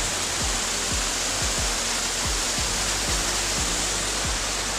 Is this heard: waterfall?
yes